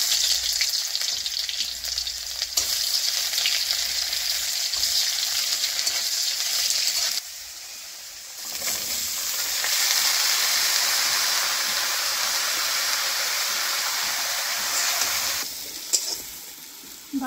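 Eggplant pieces fry in hot oil in a pan, a loud, steady hissing sizzle with a brief quieter dip midway as the pieces are stirred, and no one speaking.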